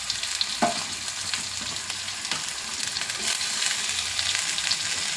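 Chopped tomatoes fry in a pan for egg pulao, giving a steady close sizzle with light stirring scrapes and small pops, and no talk.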